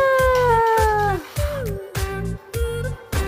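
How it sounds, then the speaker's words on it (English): A cat in a cat show playing on screen meows several times in a row, clear repeated calls with short gaps and a falling pitch, heard up close without any talking. "There's a cat in the house."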